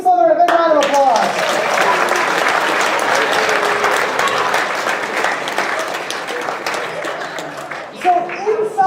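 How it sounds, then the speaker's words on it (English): A crowd at a chemistry demonstration night gives Team Slytherin a big round of sustained applause, loud and dense. A voice speaks before it begins and again as it fades near the end. "All right, let's give Team Slytherin a big round of applause."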